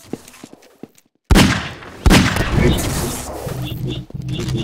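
Rapid bursts of gunfire from a Half-Life 2 Deathmatch match, sudden and loud after a brief quiet, continuing in dense overlapping shots with explosive booms and chaotic action noise throughout.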